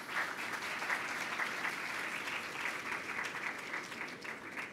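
Audience applause at the close of a school education talk, a steady, fairly quiet clapping from a group that continues evenly throughout.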